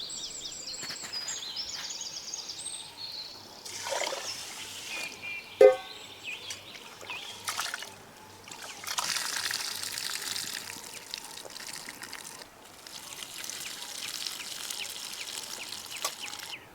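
Water trickles and pours in short bursts as one kilogram of rice is rinsed, quiet and intermittent with gaps of near silence between splashes.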